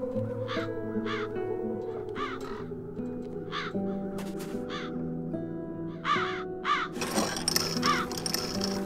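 Crows caw repeatedly in the video game Das Schwarze Auge: Satinavs Ketten, a series of harsh calls spaced in a loose rhythm over steady game music, growing louder and denser near the end.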